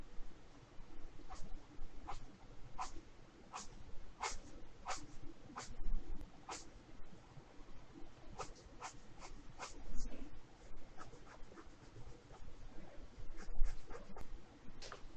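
Pen sketching on paper, a series of quick scratchy strokes at an uneven rhythm, close and fairly quiet against a soft room background.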